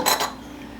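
A small kitchen spatula is picked up from among utensils while making sourdough biscuits, giving a brief metallic clink and rattle of cutlery near the start, followed by quiet.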